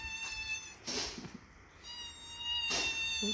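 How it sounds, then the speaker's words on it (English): A small cat in a garden with butterfly-attracting plants meows twice, short close calls near the start and end, over a steady high insect or bird whine. "This is the little pussy cat"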